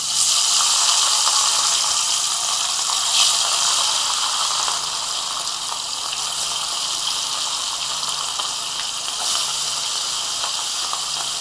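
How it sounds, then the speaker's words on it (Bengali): Fish frying in hot mustard oil in a wok gives a steady, loud hiss and sizzle that runs unbroken throughout, with no voices. "তেল গরম হয়ে গেছে, মাছগুলো একে একে ভেজে নেবো।"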